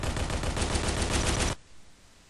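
Rapid automatic gunfire from the video game Halo 3, a loud continuous burst of shots lasting about a second and a half before cutting off abruptly to quiet.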